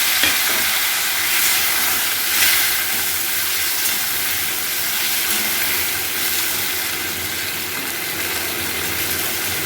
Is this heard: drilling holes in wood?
no